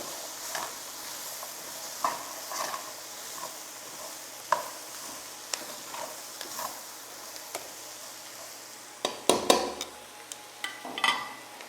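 Leek frying in a pan gives a soft steady sizzle with scattered sharp clicks and taps of a utensil against the pan, fairly close, with no voices.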